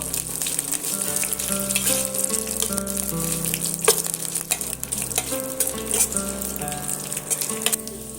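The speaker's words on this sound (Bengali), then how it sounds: "কিশমিশ আর কাজু বাদাম আরও আমি একটু ভেজে নেবো" Cashews and raisins fry in hot oil in a pan for semolina halwa, with a constant, close sizzle and crackle and a faint steady tonal hum underneath.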